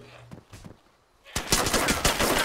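Automatic gunfire rattles in loud rapid bursts in the survival video game DayZ, following quieter scattered sounds and soft voices beforehand.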